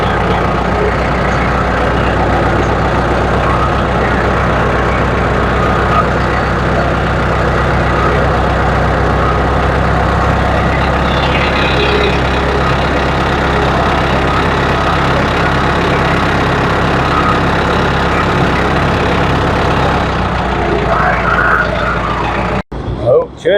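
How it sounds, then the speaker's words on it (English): A tractor fitted with a middle buster runs in a Yukon Gold potato field, its engine a loud, steady low drone that holds for the whole stretch before cutting off abruptly near the end. "we'll get the tractor here with the middle buster"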